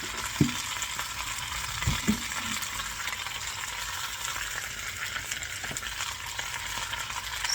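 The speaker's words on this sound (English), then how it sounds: "Hear that sound, that sizzle?" Potatoes and turnips fry in a skillet with a continuous close sizzle, broken by a few soft clunks of stirring or utensil knocks.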